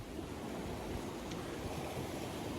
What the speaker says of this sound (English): you've got to be so careful with the waves